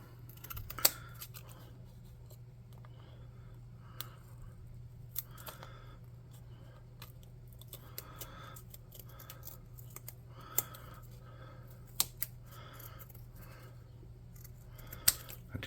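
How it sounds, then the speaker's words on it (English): Scissors snip off excess material repeatedly at irregular intervals, sharp quiet clicks over a faint steady hum, with no voices. "I'm going to come around with a pair of scissors and snip off the"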